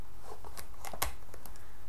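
Scissors snipping a piece of braided fishing line, a few short close cuts with one sharper snip in the middle, over quiet background noise.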